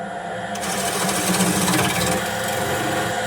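A woodworking tool chatters roughly against split wood while a wooden mallet is being shaped, a continuous harsh rattling buzz that holds steady for about three seconds with no talk.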